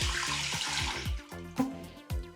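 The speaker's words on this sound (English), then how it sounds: "Oh, hey, it's got running water." Old water tap in a run-down Australian house turned on, water gushing into a sink with pulsing, sputtering surges and a humming pipe tone, close and alone.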